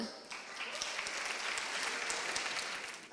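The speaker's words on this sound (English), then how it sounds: "let's give a big round of applause to brother Ali Abid" Audience applause for a stand-up comedian at a community chai night, a steady wash of clapping from a crowd lasting the whole stretch, moderately loud and even.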